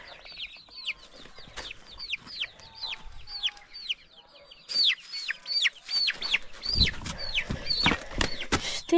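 Several chickens cluck and peep in quick, overlapping calls close by, with some handling noise and a few louder squawks toward the end.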